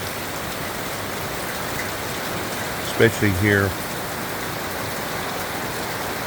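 Steady rain falls in a dense, even patter across a farming area. A person speaks briefly over it midway.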